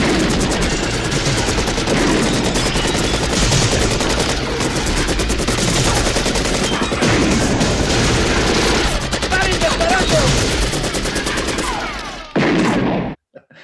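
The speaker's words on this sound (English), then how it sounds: "they shoot about 4 million bullets into it." Heavy gunfire from a Commando movie scene, with a long dense barrage of bullets fired at once as loud, continuous rattling bursts that cut off abruptly near the end.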